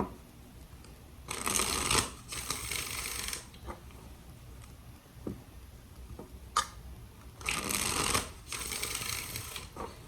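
Tarot cards being shuffled up close in two quick riffling bursts, separated by quiet stretches with light ticks and taps.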